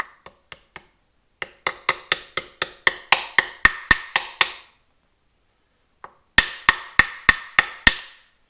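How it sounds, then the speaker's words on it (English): Sharp metallic taps from a light body hammer in quick bursts: a few light strikes, a steady run of heavier blows, a pause, then another rapid series, close and clear. "Just grab my light little body hammer here."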